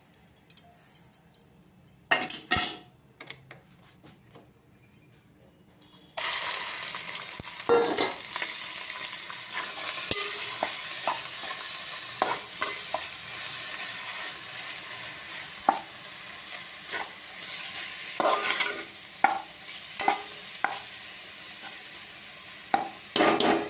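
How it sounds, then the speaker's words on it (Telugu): Raw mango curry hits hot oil with a sudden steady sizzle that continues at close range, punctuated by the ticks and scrapes of a spoon stirring in the pan. No one speaks. "ఇప్పుడు లైట్గా ఫ్రై చేసుకుందాం, పచ్చివాసన పోవడానికి"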